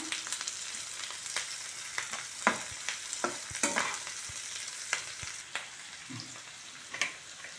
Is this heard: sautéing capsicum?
yes